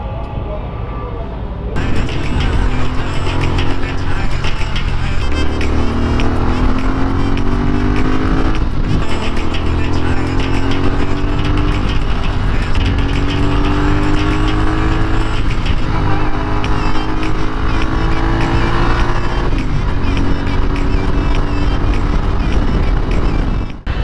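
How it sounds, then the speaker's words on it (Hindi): Heavy road traffic with cars passing makes a loud, continuous rumble of engines, with repeated rising engine tones as vehicles pull away, and voices mixed in. "इतना ट्रैफिक इतना ट्रैफिक क्या हाल है"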